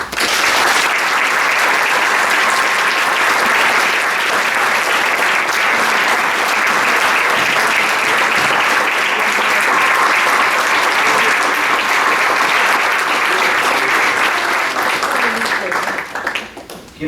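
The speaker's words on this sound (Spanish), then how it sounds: "quiero pedir un aplauso para ella" Sustained, loud audience applause at a tribute event honoring a Peruvian artist, a dense wall of clapping that holds steady for well over a quarter minute before fading away at the end.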